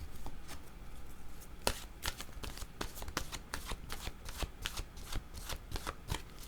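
Oracle cards being shuffled by hand in a steady run of crisp riffles and slaps, close and fairly quiet, with no talking.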